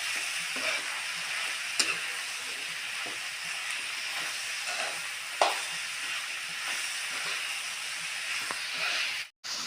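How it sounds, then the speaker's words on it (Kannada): Tomatoes and onions fry in a pan for a hotel-style tomato chutney, giving a steady close sizzle with occasional stirring scrapes and taps throughout, and no voices. "ಟೊಮೆಟೊನು ಡೀಪಾಗಿ ಫ್ರೈ ಆಗ"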